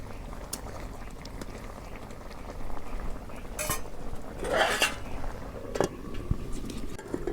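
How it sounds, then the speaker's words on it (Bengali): Peas and potatoes frying in a pan for a winter fish curry, a low sizzle under clinks and scrapes of a metal spoon on the pan, with a burst of louder stirring midway and no talk. "এই দেখো মটর আর আলু কষে নিতেছি।"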